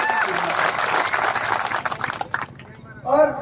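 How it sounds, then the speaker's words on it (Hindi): A crowd at a gathering claps and cheers in a loud, dense wash that fades within a few seconds, then a voice starts speaking. "एक बार जोरदार तालियों से।"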